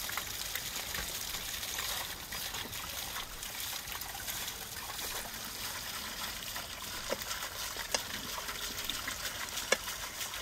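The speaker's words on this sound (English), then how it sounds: "then open the water flow by removing the damper" Water flowing freely down a channel after a damper is lifted, in a mountain nomadic village cooking setting; a steady broadband rush and trickle continues throughout at moderate level, with no talk.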